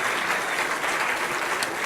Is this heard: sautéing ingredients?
no